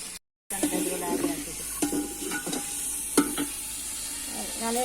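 Chicken fries in a pan in a Pakistani village kitchen, a steady close sizzle with scattered pops and stirring scrapes throughout.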